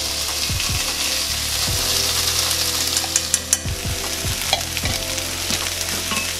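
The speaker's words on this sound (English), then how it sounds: "we are going to add the lentil mixture that we just put on the eye" Lentil mixture scraped and stirred in a hot pan for a vegan Jamaican patty filling, giving a steady close sizzle broken by repeated scraping strokes of a spoon against the pan, with no talking.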